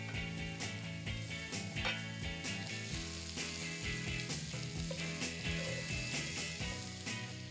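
Diced cooked potatoes and red pepper frying in a pan for a smoker breakfast dish, a low steady sizzle with repeated rhythmic clicking and scraping over a constant hum, no speech.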